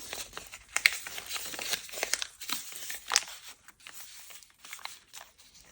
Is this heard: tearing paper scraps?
yes